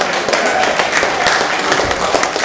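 Audience clapping at a Guyanese Kwe Kwe night celebration, loud continuous applause from a large crowd with voices mixed in.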